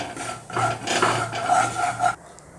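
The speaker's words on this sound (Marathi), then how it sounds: "एक 2 ते 3 मिनिटं भाजून घ्यायचं आहे।" Semolina is dry-roasted and stirred in a pan for moong dal halwa, giving close, rasping scrapes of a spoon against the pan that run for about two seconds before stopping abruptly.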